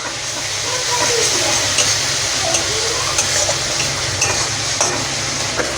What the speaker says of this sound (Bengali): আদা রসুন আর কাঁচা লঙ্কা বাটাটা রেখেছিলাম সেটা এবার 2 চামচ দিয়ে দিলাম, দিয়ে আরেকটু ভালো করে নেড়ে নেব